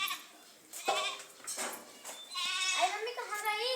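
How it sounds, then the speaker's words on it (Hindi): Goats and young kids tied up at a farmhouse bleat repeatedly in short wavering calls close by, with a person talking over them. "देखो जी हमारे बकरी बच्चे बंधे पड़े हैं सब।"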